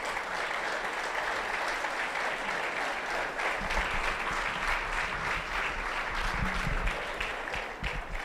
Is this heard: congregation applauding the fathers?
yes